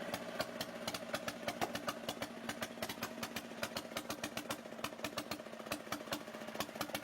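Vintage Deutz MAH 711 air-cooled diesel engine running at a steady idle, with a fast, even knocking beat over a low hum, heard alone at moderate level.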